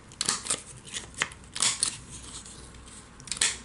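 Cardstock sliced on a paper trimmer, several crisp close cutting strokes in irregular bursts, each a short rasping swipe with quiet pauses between.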